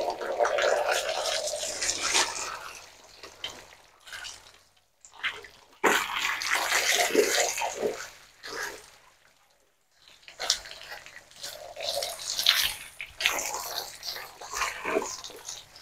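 Water is poured and splashed over a cow during a bath, coming in rushing bursts separated by short pauses, loud and close.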